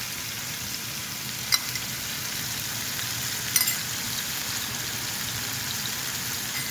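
A splash of stock reduction hits a red wine mushroom sauce for New York strip steak, giving a steady, even sizzle with two brief sharp clicks along the way.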